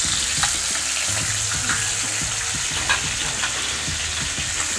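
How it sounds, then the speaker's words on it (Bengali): Hilsa fish frying in oil in a pan gives a steady, continuous sizzle with small crackles and pops. It sounds close and sustained and stands alone with no talking. "মাছটা ভাজা বসায় রেখে দিয়েছি, মাছটা ভাজা হইতে থাক।"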